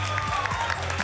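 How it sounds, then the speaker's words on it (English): Applause from the crowd gathered around the indoor wind tunnel at the Wind Games 2018 awards, a steady wash of clapping filling the space with a constant low hum of the tunnel underneath. "Big round of applause from everybody in the tunnel."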